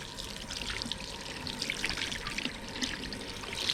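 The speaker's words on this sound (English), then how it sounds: "Make sure to rinse off all the soap." Running tap water splashing over hands while soap is rinsed off before cell culture lab work, a steady close trickle and patter that holds level throughout with no talking.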